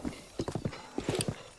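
In The Legend of Zelda: Breath of the Wild, a horse's hooves clip-clop on the main road in two quick bursts of crisp, close, even beats.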